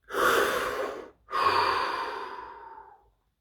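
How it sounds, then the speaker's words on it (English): A slow, deep breath is drawn in and then let out in a long exhale, close and quiet, with a short pause between the two breaths and silence after. "Deep breath."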